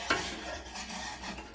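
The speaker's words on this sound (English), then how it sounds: "And we can stir that up a bit" A spoon scrapes and stirs through thick creamy sausage pasta sauce in a pot, with soft clinks and faint bubbling, quiet and close.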